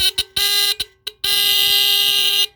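Several fire alarms, including Fedtro, Star and Tanita Mfg units, are tested together: short bursts stutter on and off, then a loud, sustained, shrill electronic tone holds steady, close and without speech.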